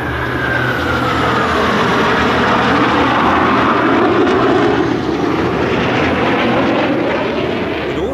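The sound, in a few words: FA-50 jet aircraft flying at an airshow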